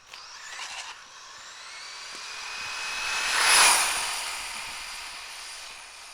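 Traxxas Slash 2WD RC car on a 3s Lipo battery races past, its high electric motor whine rising as it approaches, peaking loudly close by, then fading as it pulls away.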